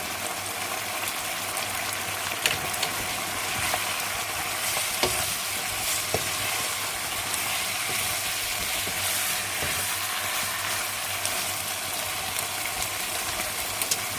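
Sliced chilies stir-fried into soy sauce chicken in a pan, a steady close sizzle with continual scraping stirs throughout, no talking.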